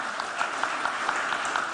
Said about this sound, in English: Can I get one more round of applause for my distinguished panel